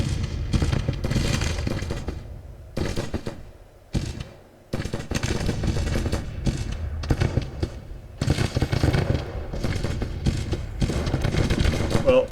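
Musket volleys in the Grand Tactician Civil War strategy game, with dense crackling rifle fire rolling almost continuously in loud bursts and only brief gaps between them.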